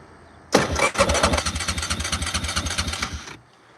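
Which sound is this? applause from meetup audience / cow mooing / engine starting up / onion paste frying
engine starting up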